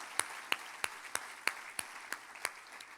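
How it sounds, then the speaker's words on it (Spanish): Sparse, slow rhythmic clapping from a church congregation, about nine distinct claps spaced evenly over a few seconds, fairly faint and somewhat distant against a quiet room. "Dele ese aplauso al Señor"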